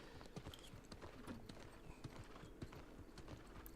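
Steady clip-clop of horse hooves at a trotting rhythm in the video game New World Aeternum, close and fairly loud, with a faint whinny-like tone in the background.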